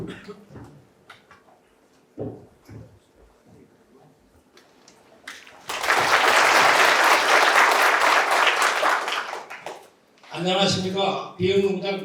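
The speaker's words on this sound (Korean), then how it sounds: "큰 박수로 제 발표를 마무리하도록 하겠습니다." Loud, dense applause from a farm management seminar audience breaks out and holds steady for about four seconds, closing a presentation, with a man's speech resuming right after and quiet talk and small room noises before it.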